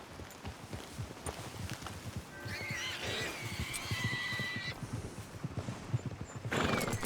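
Rhythmic clip-clop of hooves pulling a wagon along a track in the video game Red Dead Redemption 2, with a horse whinnying in the middle and wheels rattling along, steady and moderately close.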